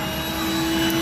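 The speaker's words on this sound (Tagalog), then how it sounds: "Pang vacuum, isa sa mga function ito." A Rainbow vacuum cleaner runs steadily while cleaning the inside of a 2020 Dodge Caravan, a loud, constant whining hum with a fixed tone throughout the short stretch.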